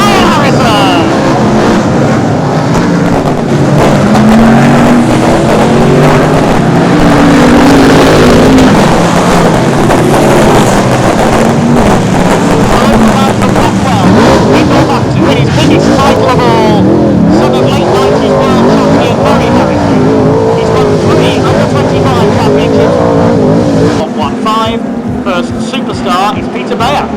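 BriSCA F1 stock cars race round the track at Northampton during the European weekend, a dense, continuous engine roar with rising and falling revs and some tyre scrub, heard under a commentator's voice throughout.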